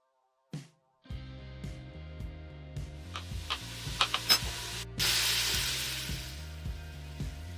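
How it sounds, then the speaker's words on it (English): Jackfruit, mushroom and onion sizzle and crackle in a little hot oil in a pot, with clanking and stirring noises over a steady frying hiss that grows louder toward the end. "Sizzle that slightly with a little bit of oil, just covering the base of the pan"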